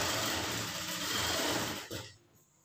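A sewing machine runs steadily, stitching a straight seam in fabric for a garment, with a dense continuous whir close up for about two seconds before it stops and fades out.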